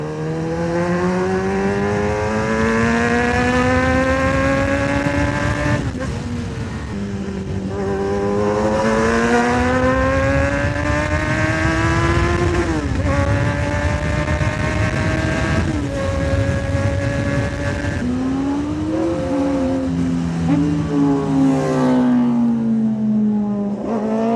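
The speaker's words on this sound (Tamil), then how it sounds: "இந்த லாரி கேப்ல போகும்போது தான் அந்த பீட் பயங்கரமா கேக்குது" Superbikes such as a Kawasaki ZX10R, Suzuki Hayabusa and Kawasaki Z900 ride mountain roads near Yelagiri. Loud, sustained engine exhaust drones through repeated rising and falling revs and gear shifts, close and continuous for the whole stretch.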